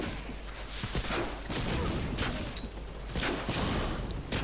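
Dense, continuous gunfire and explosions from multiplayer combat in Medal of Honor: Allied Assault Breakthrough, with rapid overlapping shots and booming blasts filling the whole stretch at steady loudness.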